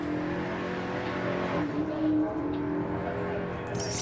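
A drag race car launches and accelerates down the strip at a Santa Pod sportsman event, a loud roaring engine note heard at some distance, with crowd ambience and a brief tyre sound.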